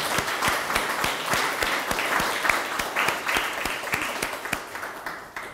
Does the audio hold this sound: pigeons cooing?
no